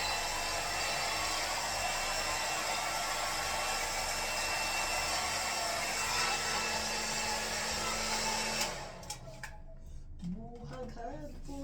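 A hair dryer blows in a steady loud whoosh while drying hair after a shower and conditioner, running for several seconds before switching off, followed by quieter household noises.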